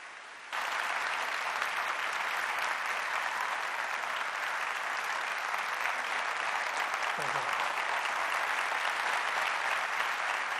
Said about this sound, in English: don't applaud me yet.